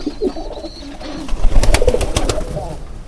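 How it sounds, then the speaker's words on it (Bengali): Sirazi pigeons, a large breed, coo in low throaty bursts up close, with clattering knocks and faint voices in the background. "এই সিরাজ কবুতরগুলো একটু বড় হয়,"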